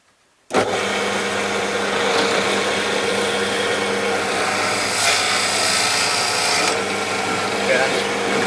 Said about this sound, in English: You've got to get the drill to do the work.